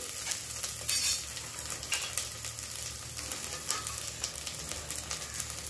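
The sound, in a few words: frying and stirring ingredients in a pan for biryani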